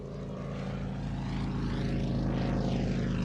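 A Comper Swift light aeroplane taxis with its propeller engine running, a loud throbbing drone that builds slightly and stays close and continuous throughout.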